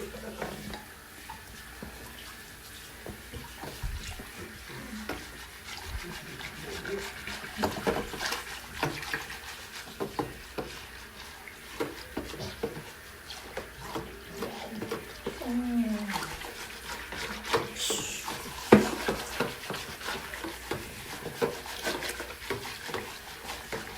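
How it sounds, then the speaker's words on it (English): Watercolor hair dye mixture is whisked with water in a bowl, giving a steady, close scraping and swishing texture with small splashy clicks, and brief soft voice sounds over it. "And go ahead and whisk it."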